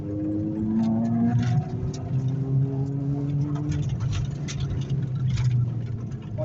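A Peugeot 206 RC with six-speed gearbox, its engine pulling at 5500 rpm from inside the car, a loud steady drone with rising tones early on, then a rougher sustained roar.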